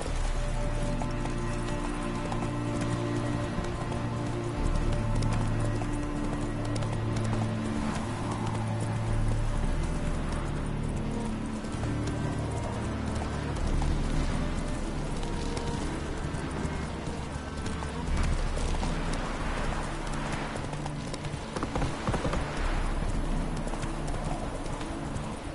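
Roach the horse gallops in The Witcher 3, a loud, continuous drumming of hoofbeats held steady throughout, with birds faintly chirping in the background.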